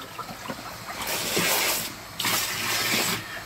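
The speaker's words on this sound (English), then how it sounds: "I turn the pump on." A koi pond filter pump is switched on and pushes water through a pipe, giving a soft rushing gush that swells in two broad bursts over a low background, with no talk.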